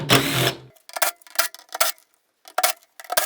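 Nuts come off the fuel pump of a Honda CBR/VFR motorcycle with a short mechanical whir, then a string of sharp, close metallic clicks and ratchet bursts in irregular rhythm.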